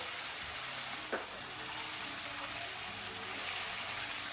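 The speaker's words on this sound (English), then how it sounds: "it's not a better night to have fried fish, fried corn on the cob, fried French fries" Fish, corn on the cob and French fries frying in hot oil, a steady close sizzle and crackle running throughout with no talk over it.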